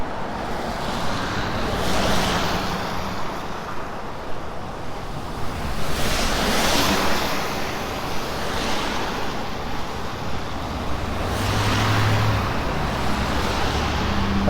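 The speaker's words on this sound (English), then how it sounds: "I don't usually like to cross the bridge because of the traffic noise." Steady traffic roar rolls across a road bridge near a lake in Regina on a mild, gray March day, a continuous broad wash of passing vehicles swelling and easing with wind, with no voices.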